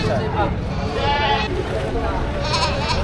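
Goat bleats at a Filipino livestock market, repeated wavering cries close by over a steady crowd hubbub with voices talking in the background.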